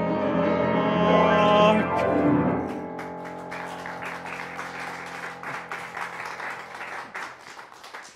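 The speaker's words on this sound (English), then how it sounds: "What are you clapping for?" An audience breaks into clapping as a sustained musical chord fades, the applause steady and close, scattering and thinning over several seconds.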